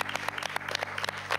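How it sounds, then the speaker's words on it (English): Applause for children at a school maths quiz show, brief quick clapping from a small group, moderately loud and alone, lasting just over a second. "Let's give them a round of applause."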